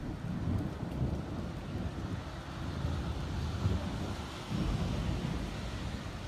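Rain falls in a steady, soft wash with a low rumbling undertone, faint and continuous outdoors with no voices.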